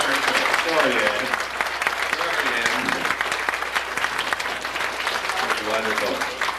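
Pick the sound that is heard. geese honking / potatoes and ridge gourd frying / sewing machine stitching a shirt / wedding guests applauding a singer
wedding guests applauding a singer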